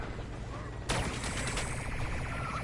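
Video game gunfire bursts in sharply about a second in, then settles into a rapid, steady rattle of automatic shots layered over continuous background noise.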